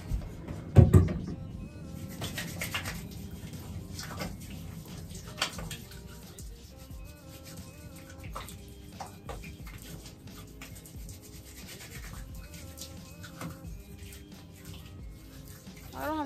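Tap water runs steadily into a sink as hands are washed beneath it, with splashing and shifting water sounds, a few bumps and knocks, and occasional faint background noise throughout.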